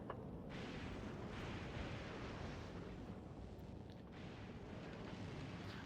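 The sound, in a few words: rocket silos launching in the video game Factorio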